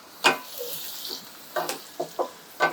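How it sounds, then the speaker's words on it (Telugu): Onions fry in a pan with salt and chili powder for a shark fish pottu dish, with a soft steady sizzle under several quick scraping stirs of a spoon against the pan, close and brief. "ఉల్లిపాయ చక్కగా మగ్గుతుంది."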